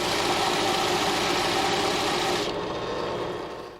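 A belt sander runs steadily on a sawed wooden surface in a workshop, a loud continuous motor whir with abrasive hiss that drops in intensity partway through and then winds down at the end.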